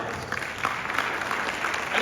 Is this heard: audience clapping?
yes